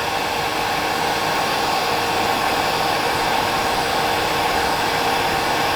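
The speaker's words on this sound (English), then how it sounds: "I've got a bit of hairdryer here" A hair dryer blows with a constant, loud whooshing roar that stays even from start to finish, drying a wet fly being tied.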